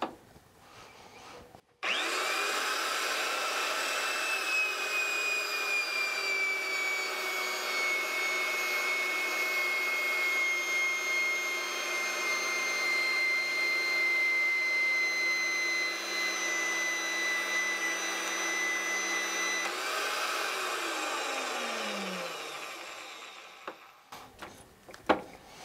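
A Wheeler-Rex Sidekick III pipe threading machine cuts threads on 1-inch pipe, starting abruptly into a loud, steady grinding whine that holds for around twenty seconds and then winds down to a stop.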